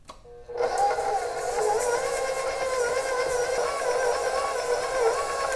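A raised-bowl stand mixer starts up and keeps a steady mid-pitched electric whir while mixing chocolate chip cookie dough, close and even throughout.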